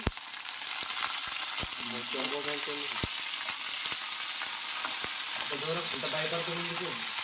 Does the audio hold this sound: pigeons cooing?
no